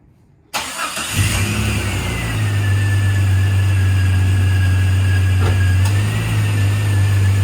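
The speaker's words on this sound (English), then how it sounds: "Let me pop the hood and start her up so you can hear it." A 2000 Jeep Cherokee XJ engine cranks briefly on a cold start and catches, then settles into a steady, loud idle with a low constant hum, close by and with no talking.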